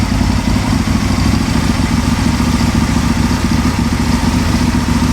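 A tuned Aprilia motorcycle engine ticks over at idle, a steady, close, loud low throb with light mechanical clatter, running alone without speech.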